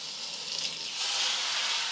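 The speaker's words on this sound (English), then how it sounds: "Using hot water will create steam, lifting up some of our grossness." Hot water hits a hot cast iron pan and flashes to steam, a brief, bright hiss and sizzle that swells slightly toward the end.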